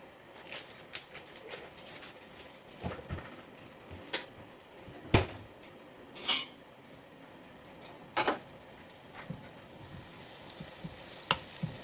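About three-quarters of a block of butter melts in a pan for buttered chicken pasta, giving a soft continuous sizzle broken by a few sharp clinks and scrapes of utensils against the pan.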